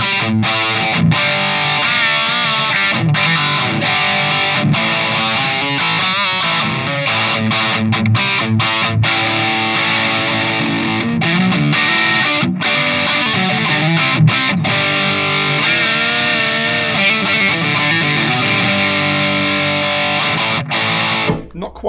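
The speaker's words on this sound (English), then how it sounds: "So there we have it, the Lindo Natural Overdrive" Electric guitar played through a Lindo Natural Overdrive pedal into an amp, giving heavy rock rhythm tones, loud and continuous with sustained distorted chords throughout, no voice over it.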